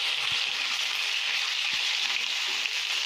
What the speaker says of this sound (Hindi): मीडियम फ्लेम पे रख के अदरक डाल देंगे, इसे भी भूनेंगे थोड़ा सा